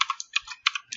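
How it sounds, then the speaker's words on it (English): Quick bursts of typing on a computer keyboard, several close, crisp clusters of key clicks separated by short pauses, with no talking. "So I'll type my account"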